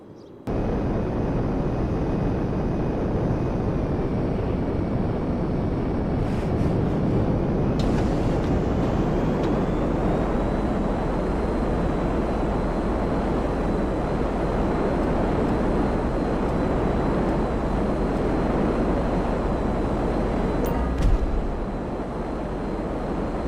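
A plane in GTA 5 Online flies backwards, a steady, loud, continuous engine and wind roar that holds level for over twenty seconds with no speech.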